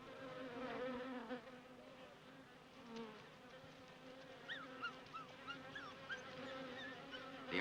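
A swarm of bees arriving on a pack of dogs makes a dense, steady buzzing drone that fills the clip at a moderate distance, with brief higher whines from individual insects passing close.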